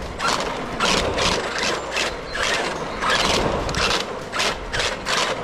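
Harsh mechanical grinding from a worn differential ring gear in an Arrma RC truck drivetrain, rising and falling in rapid rhythmic bursts, loud and close.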